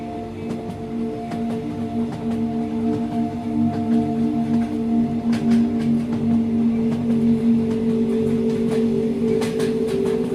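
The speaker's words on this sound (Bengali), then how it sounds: "ট্রেনটি তার নিজের গতিতে ছুটছিল, কুয়াশা এবং বাতাসকে ভেদ করে" A train rumbles steadily along with a continuous low drone and sustained tonal hum, faint clicks of the rails cutting through now and then.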